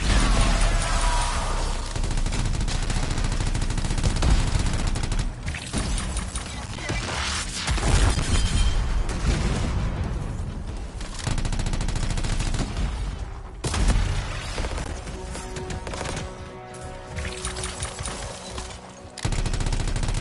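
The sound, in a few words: gunfire from a large gun in the video game Anthem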